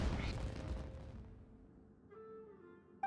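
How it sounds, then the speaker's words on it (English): Muffled booming fireworks explosions in Genshin Impact, loud at first and then fading into a distant rumble, followed by a faint tonal cue and a sharp click at the end. "Was that an explosion? It sounded like fireworks."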